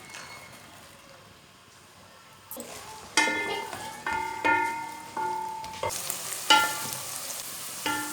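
A soft sizzle of onion and garlic frying in oil until light brown, with a spoon stirring and clinking against the pan in irregular scrapes, close by.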